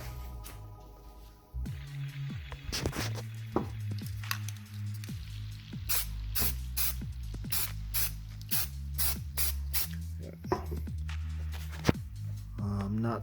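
Spray can applying a primer base coat to a short shifter plate, a series of short hissing bursts with pauses between, close and fairly loud.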